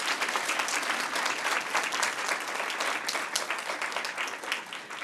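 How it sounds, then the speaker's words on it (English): An audience at a data conference's main stage claps for a speaker who has just finished, a dense and sustained round of applause at moderate distance that gradually thins out, with no talking. "Let's give him a round of applause."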